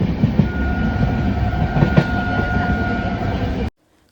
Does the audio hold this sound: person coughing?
no